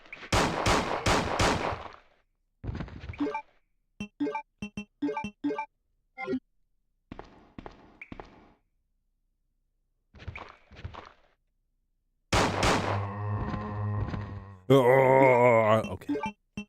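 Several loud, close gunshots in Resident Evil 2 (1998): a quick volley at the start, then scattered sparse shots and thuds spread through the clip, ending in a dense noisy burst of fire.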